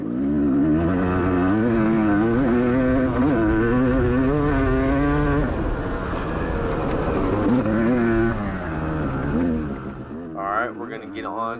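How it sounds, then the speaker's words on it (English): An off-road motorcycle engine held wide open at full throttle on a race track, loud and close, a sustained droning roar with wavering pitch that drops and sputters near the end. "See how far your throttle can twist and how much guts you have just to hold it wide open the whole time."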